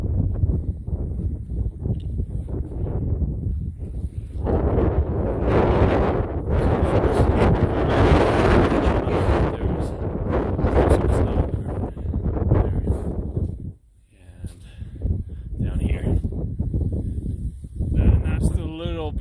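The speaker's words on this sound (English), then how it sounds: "in these cold, windy conditions" Strong gusts of cold mountain wind near Pelion Gap on Tasmania's Overland Track roar and buffet the microphone, easing briefly then building again, with faint speech mixed beneath the blustery noise.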